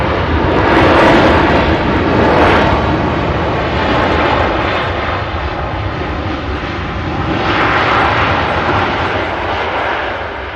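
Loud, continuous roar of jet aircraft engines at Manchester Airport, swelling and easing over several seconds as a plane passes close by, with no voices.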